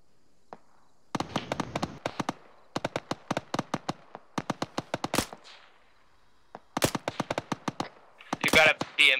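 Rapid bursts of automatic gunfire from an enemy BRDM armored vehicle in a military shooter game crackle in several strings of sharp shots with short gaps between them, fairly close and loud.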